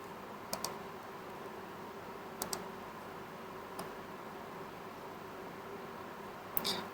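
Sparse keystrokes on a computer keyboard, a few quick clicks in small clusters spread over a quiet, hissy background, faint and with no talk.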